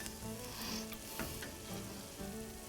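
Oreos fry on a Blackstone griddle, giving a continuous close crackling sizzle with small pops throughout.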